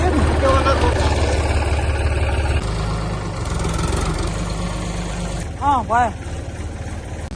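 A tractor engine idles and runs with a steady low throbbing through the opening seconds, then continues more faintly under people talking, while firewood is being hauled in a village in Jhapa.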